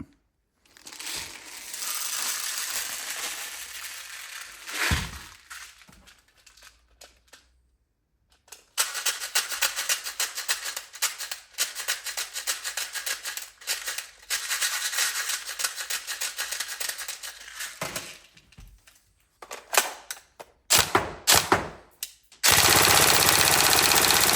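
A Tokyo Marui Mk18 NGRS airsoft electric gun firing in several rapid full-auto bursts separated by pauses, each a fast mechanical rattle close by, ending in one sustained string, with no talk.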